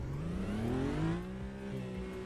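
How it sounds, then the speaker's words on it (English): A race car engine in Automobilista 2 revs upward in one smooth, rising sweep, loud and close, then holds a high pitch with no voices over it. "I just realised, I hope this car sounds alright."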